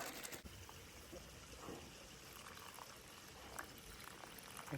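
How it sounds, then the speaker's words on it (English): Water poured onto dried hummus to rehydrate it at a backpacking camp meal, a quiet soft trickling and bubbling pour heard close up without speech. "we just need to add some water into our dried hummus"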